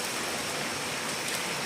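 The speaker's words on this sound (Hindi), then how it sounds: "जोर की आ रही है बारिश और ठंडी ठंडी चल रही है हवा।" Heavy rain pours steadily in a dense, even hiss with a cool wind blowing, constant and close with no voices.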